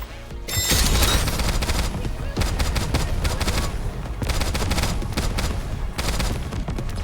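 Rapid automatic gunfire from the anime shooter game Nikke: Goddess of Victory, loud and dense bursts firing almost continuously with brief gaps, crackling sharply throughout.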